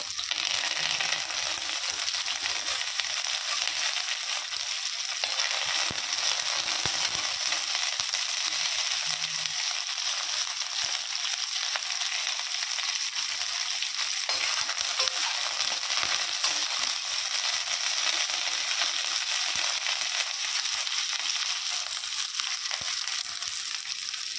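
Curry leaves sauté in a hot pan for a village-style country chicken fry, making a loud, continuous sizzle and crackle throughout, with occasional stirring scrapes underneath.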